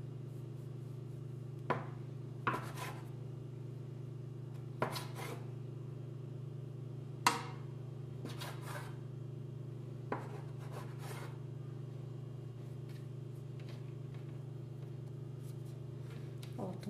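A knife saws through a loaf of bread baked already sliced, giving several short, crisp rasping strokes spaced irregularly over a steady low hum, close and fairly quiet with no talking.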